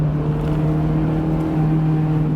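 A Honda S2000 accelerates with a steady, loud engine drone and a strong sustained tone, heard close and continuous with no talking.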